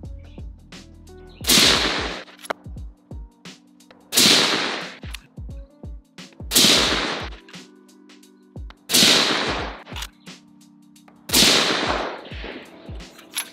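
Five sharp, loud rifle shots from a Thompson Center Performance Center LRR in 6.5 Creedmoor ring out outdoors at a few-second intervals, each crack trailing off in a brief echo, with faint clicks between them.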